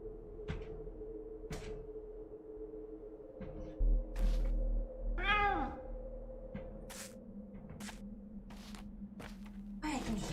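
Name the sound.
cat meowing in the video game Pathologic 2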